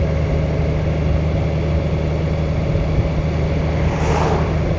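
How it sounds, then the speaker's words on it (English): A Honda Goldwing motorcycle with a DCT gearbox cruises in fifth gear through city streets, giving a steady, smooth, close engine drone mixed with road and wind noise, unbroken for a few seconds, without speech. "It's very easy on this bike with the DCT. You just go along. I'm in 5th gear at the moment, but it's super smooth."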